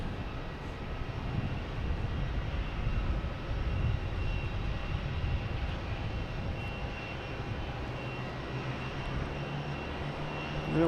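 An Etihad Boeing 787-9 lining up on runway 4 Right at Boston Logan, a steady distant jet-engine rumble and whine held at a constant level throughout, heard from outside the airfield.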